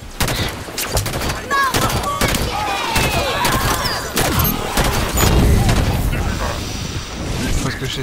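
Enemy gunfire in Halo 5 from a Jackal shooting at the player, a dense rattle of rapid shots and booms filling the whole stretch, with other game effects mixed in.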